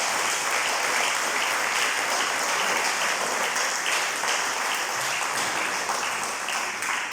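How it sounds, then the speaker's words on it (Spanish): A church congregation claps together in sustained, dense applause. The sound is loud and even from start to finish, with no pause in the clapping. "Den un aplauso al Rey"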